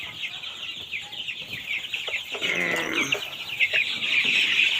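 Chickens and young chicks on a poultry farm: a close chorus of high, busy peeping and chirping with scattered clucks, lively and continuous.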